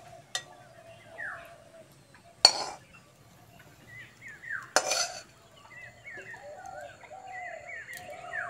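Utensils clink against a plate as chow mein is served, a few sharp, separate clinks spaced a couple of seconds apart, with quiet birdsong in the background.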